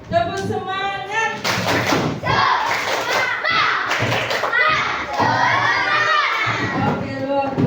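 Primary schoolchildren at an anti-bullying session at an Indonesian elementary school doing a spirit clap chant, loud rhythmic group clapping mixed with shouted, chanted young voices in a hall.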